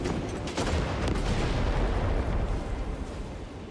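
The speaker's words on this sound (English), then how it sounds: "Frag grenade deployed." A frag grenade blast in a video game: a heavy boom that bursts in early, then a long rumbling roar that swells and slowly fades, loud and close with no talk over it.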